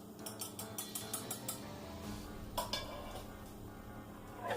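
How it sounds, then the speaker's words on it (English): A utensil stirring melted dark chocolate mixture in a metal pot, a quick series of soft rhythmic scrapes and light clinks against the pot, faint and close, with a couple of sharper knocks. "I'm going to give it a nice stir before we begin our process"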